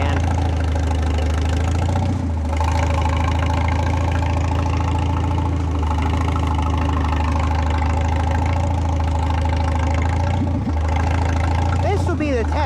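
A tractor engine revs up under added throttle, a steady low mechanical drone that holds loud and close throughout, with brief dips near the start and end.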